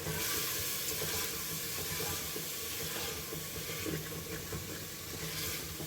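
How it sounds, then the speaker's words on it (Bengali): Water poured into a pan of frying spice masala for a soya chunk curry brings a soft, continuous hiss and sizzle, faint and steady, with light scraping of stirring beneath it. "মশলাগুলো যাতে পড়ে না যায় তার জন্য সামান্য পরিমাণ জল এখানে দিয়ে দিলাম"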